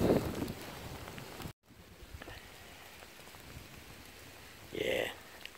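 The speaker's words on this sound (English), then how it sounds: "it's definitely raining hard." Heavy rain pours down outdoors under a pine tree, a dense steady hiss of falling water, with a louder rustle at the start, a short dropout, and a brief louder patch near the end.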